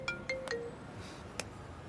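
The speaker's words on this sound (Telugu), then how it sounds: "అది ఫోన్ వచ్చినట్టుంది. నాకు వినిపిస్తుందిరా." A mobile phone ringing indoors, a few short, bright chiming tones in quick succession followed by another after a pause, faint against room hush.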